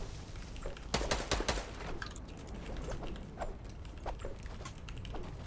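Gunshots in a video game, a burst of sharp cracks clustered near the start followed by scattered lighter pops over a steady noisy background, moderately loud.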